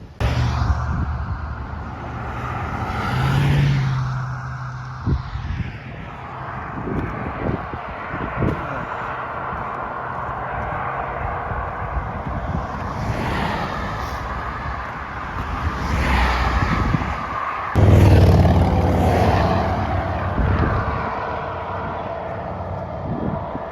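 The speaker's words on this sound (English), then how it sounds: "Cars flying at about 50 and 60 miles an hour, big trucks passing you by." Cars and big trucks rush past at 50 to 60 mph on a road along the Appalachian Trail in Pennsylvania or Maryland, loud swelling whooshes and rumble mixed with wind buffeting the microphone.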